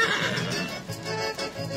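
A horse at the official opening of a Semana Farroupilha gaucho festival in Guarani das Missões neighs in a loud, sustained whinny amid outdoor crowd noise, with faint hoof sounds underneath.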